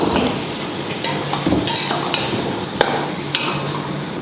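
Raw chicken being mixed by hand with rock salt for Ambur chicken biryani, close wet squelching and scraping with occasional sharp clicks against the vessel, steady and without talk.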